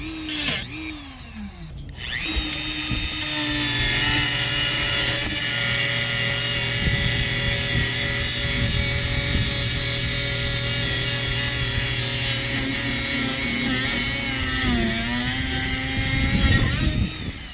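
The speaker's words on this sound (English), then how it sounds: "The Dremel cutoff wheel I'm using is the Easy Lock 1 1/2 inch" A Dremel rotary tool with a 1 1/2 inch EZ Lock cutoff wheel cuts into the traveler car of a 1984 Hobie 18 catamaran, giving a loud, sustained high-pitched grinding whine that runs nearly unbroken for over fifteen seconds after a brief spin-up.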